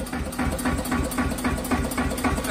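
A self-starting silent-model tractor engine idling after being started, a steady close chugging pulse with a regular rhythmic beat and low rumble, no talk over it.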